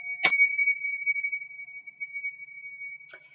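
A small bell struck once during a meditation to clear energy, a bright ring that sustains as two clear tones fading slowly, followed near the end by a soft second tap.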